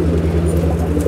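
Andhra pigeons call from a loft, a steady low cooing that sits over a constant low hum, close and fairly loud throughout without pause.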